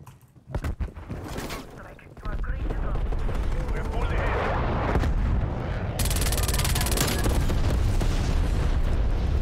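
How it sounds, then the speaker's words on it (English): A frag grenade blast and heavy gunfire in a Call of Duty Warzone match: a few sharp early shots, then a loud, sustained booming roar with layered rapid fire that persists to the end, with a voice talking over it. "Sending frag grenade."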